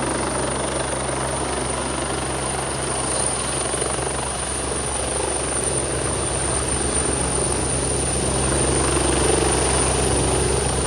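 A helicopter landing about 50 meters away roars steadily, its rotor thump and engine whine loud and constant with no break.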